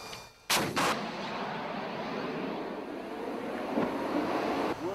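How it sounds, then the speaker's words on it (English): Marines fire an Avenger air defense weapon at moving targets in the field, a loud sharp blast followed by a sustained roaring rumble that trails on at a distance. "the Marines had a chance to fire at moving targets. Super elevate, fire."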